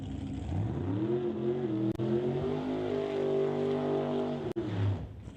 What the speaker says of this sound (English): Eric Horvath in the Tommy Gunn's Barbershop Corvette, as he has just finished his burnout and is starting to back him up